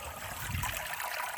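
Water rinses through Bernedoodle dog fur during a final rinse, with a brief, close, steady splashing and trickling wash and no talking.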